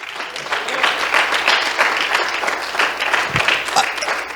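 A church congregation claps as an offering of applause to the Lord, a sustained burst of many hands clapping together in a hall, loud and even for several seconds.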